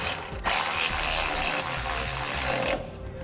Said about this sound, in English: now that we got all of our bolts started, we can tighten them down